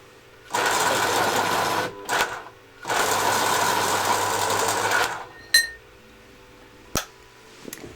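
Electric pencil sharpener grinding a pastel pencil: two loud, close buzzing runs of about a second and a half and two seconds with a short blip between, followed by a few sharp clicks and taps, no voices.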